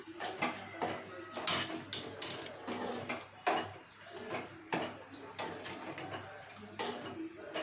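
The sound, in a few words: stirring dry fish curry in a pot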